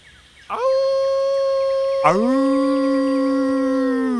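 A man imitates a wolf howl, a long sustained wavering call that breaks into a second, stronger rising howl held steadily at close range.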